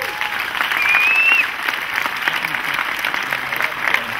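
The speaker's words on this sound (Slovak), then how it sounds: "veľký potlesk pre vás" Audience applause at a film premiere, a dense, steady wash of clapping from a crowd that swells in the first second and a half, then holds evenly to the end.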